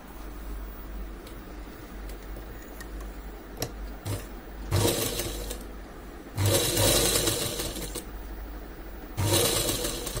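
Sewing machine stitching piping around a dress neckline, bursts of rapid mechanical clatter in several runs separated by pauses and faint ticking, close and moderately loud.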